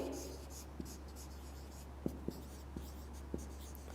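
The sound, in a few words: writing an example sentence on a board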